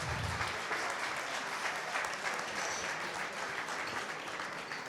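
Audience at a company 80th anniversary event applauding two guests, a dense continuous wash of many hands clapping that stays steady throughout, fairly distant and fading slightly toward the end.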